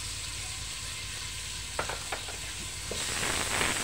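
Star brand margarine sizzles in an overheated frying pan (kawali) while chicken sopas is being made, a steady close frying hiss with a few brief stirring scrapes, growing louder toward the end.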